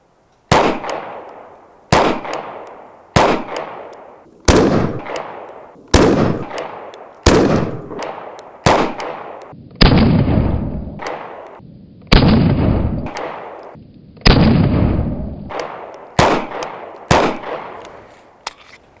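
Canik Prime pistol firing Fiocchi 115 ammunition at a range, about fourteen loud, sharp shots in a steady, evenly paced string, each with a short ringing decay.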